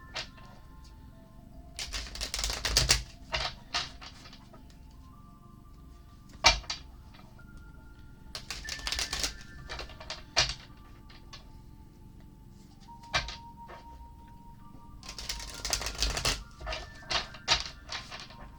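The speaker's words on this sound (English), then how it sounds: "Now we're going to shuffle up the Chakra Wisdom Tarot cards." A Chakra Wisdom Tarot deck is shuffled in several quick riffling bursts, separated by short pauses with light taps and clicks, close by and fairly quiet.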